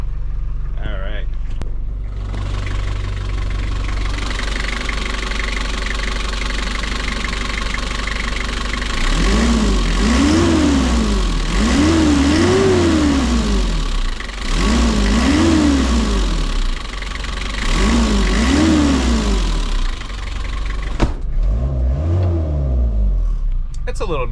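Inside the cabin of a Nissan Atlas 100 diesel truck, a steady engine drone fills the space, with the engine rising and falling in pitch through several rev cycles, someone talking over it.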